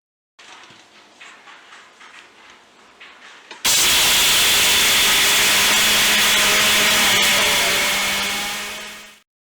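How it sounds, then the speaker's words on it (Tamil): A mixer grinder grinds sugar with cardamom. A few light rattling taps are followed by the motor starting abruptly into a loud, steady whirring roar that runs for several seconds and then winds down. "ஸோ ஜீனியை போட்டு இது கூடவே நம்ம வந்து ஏலக்காய் போட்டுக்கலாம். ஏலக்காய் போட்டே நம்ம வந்து திரிச்சு எடுத்துடலாம்."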